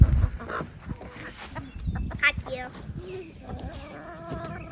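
A backyard flock of chickens clucks and murmurs in a cluster of short, uneven calls nearby, mixed with some rustling and a few faint bird chirps.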